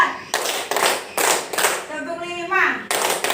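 Four loud, crisp hand claps from a classroom clapping-pattern exercise, an evenly paced group of claps with a short spoken word between them.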